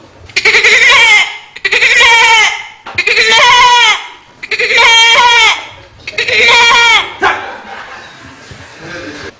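A person's voice imitates a Hausa goat, giving five loud, drawn-out wavering bleats in a row, each lasting over a second, with brief pauses between them and a fainter trailing sound at the end.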